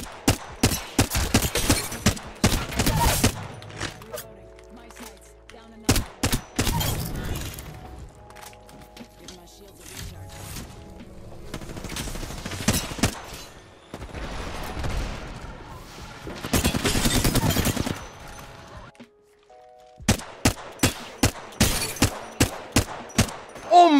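Bursts of automatic gunfire in the Apex Legends battle royale video game come in sharp rhythmic volleys separated by short pauses. Some longer sprays and bangs sit among them, loud and close, with game music and sound effects in between.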